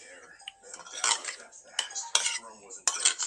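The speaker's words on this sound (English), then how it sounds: "Get that stirred around." Spoon clinking and scraping against a bowl while sriracha is stirred into a shrimp mixture, in a few sharp bursts of close metallic taps and swishes.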